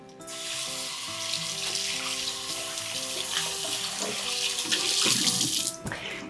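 A running tap splashes water over a EuroCAST pan in a kitchen sink, a steady close hiss for several seconds as the pan is rinsed, with light clinks near the end.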